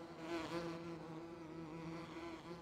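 Bees in Farming Simulator 17 hum in a continuous, even buzz with a steady drone that swells slightly near the start, heard alone without talk.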